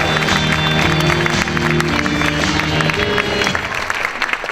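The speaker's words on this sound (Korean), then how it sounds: "다시 한번 우리 주학교 동문들에게 큰 박수 보내주시기 바랍니다" A crowd at a school graduation ceremony applauds alumni with loud, sustained clapping that fills the room, while a low musical or voice tone runs underneath and fades near the end.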